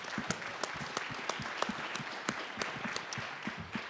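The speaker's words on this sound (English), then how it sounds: "Give everybody a round of applause." Applause from a live event audience, with a soft steady patter of clapping and a few sharper, nearer claps standing out across the whole span.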